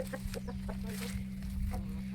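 A rooster clucking nearby, a quick series of short clucks in the first second and then a few more, over a steady low hum in the background.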